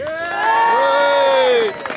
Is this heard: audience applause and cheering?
yes